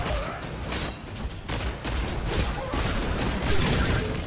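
Repeated sidearm shots in the video game Destiny 2, fired in a steady rhythm of loud, close bursts with no talking over them.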